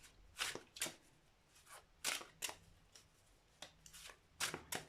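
Tarot cards from several decks are shuffled and slapped down in a series of crisp riffling bursts at an irregular rhythm, close and fairly quiet, with no talking.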